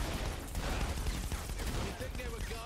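Gunfire in Saints Row The Third, loud chaotic bursts of shots mixed with game noise, with voices talking over it.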